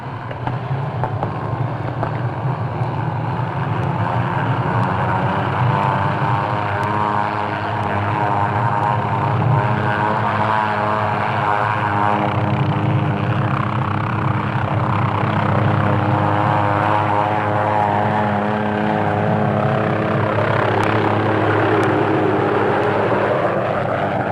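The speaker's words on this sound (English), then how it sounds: "This helicopter is standing by to take us downtown." A continuous loud helicopter engine roar with a throbbing rotor beat, steady and close for a long stretch, without speech.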